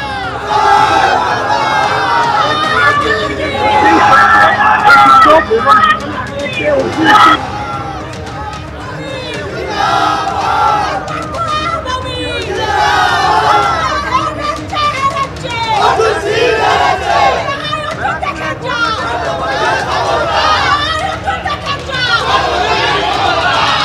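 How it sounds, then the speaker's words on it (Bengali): A large crowd outside a vote counting centre in Barrackpore chants political slogans and counter-slogans, rhythmic shouted calls rising and falling over constant babble, loud and close throughout. "আমি দেখতে পাচ্ছি এখনো স্লোগান পাল্টা স্লোগান চলছে"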